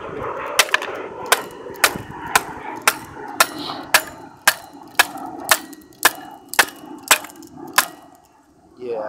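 A hammer smashes a Maxtor hard drive with about a dozen loud, sharp metallic blows in a steady, even rhythm, each ringing briefly before the next strike.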